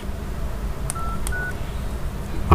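Number keys pressed on a Nokia N85 phone give two short, separate keypad dialing beeps over a low background hum, with no talking.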